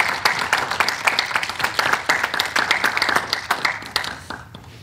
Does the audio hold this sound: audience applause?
yes